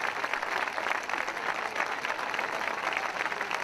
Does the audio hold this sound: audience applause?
yes